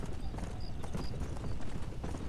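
Horse in Red Dead Redemption: Undead Nightmare gallops with fast, steady clip-clop hoofbeats on dirt, close and continuous, over a low outdoor rumble.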